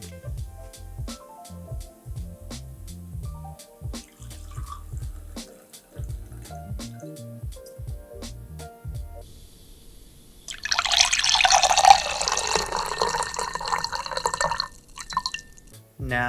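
Liquid pouring into a glass as a foley effect for a breakup scene, a steady splashing pour of a few seconds that comes in after a quieter stretch of scattered taps and handling noises.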